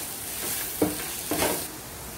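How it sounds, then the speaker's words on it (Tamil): Soft sizzling in a pan as chilli powder and turmeric masala are stirred together for an aloo capsicum fry, with a couple of brief scraping strokes over a faint steady hiss. "இப்போ அரை ஸ்பூன் மிளகாய்த்தூள், ஒரு சிட்டிகை மஞ்சத்தூள் போட்டு இந்த மசாலாலாம் மிக்ஸ் பண்ணிக்கோங்க."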